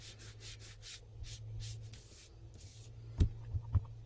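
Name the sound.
rubbing a clean piece over drawing's lightest sections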